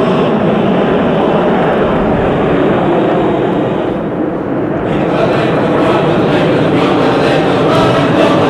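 A loud, roaring jet engine drone fills the air as Blue Angels jets pass overhead at the Melbourne Air Show, a broad steady rumble that shifts slightly midway.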